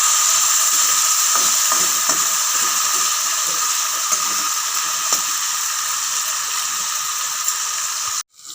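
Cut potatoes frying in hot oil with panch phoron, a loud, steady, close sizzle with faint crackles, continuous until it cuts off abruptly at the end.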